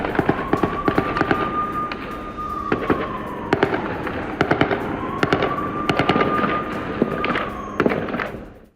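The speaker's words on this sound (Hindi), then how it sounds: "इजरायली सेना पर की गई फायरिंग।" Gunfire in the Jenin refugee camp in the West Bank comes in loud, repeated sharp bursts of rapid shots, with a wavering siren-like tone rising and falling behind them.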